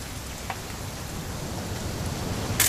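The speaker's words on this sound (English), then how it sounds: "It's going to rain the whole weekend," Steady rain pours in What Remains of Edith Finch, a dense, even hiss of drops on surfaces, moderately loud with no talk.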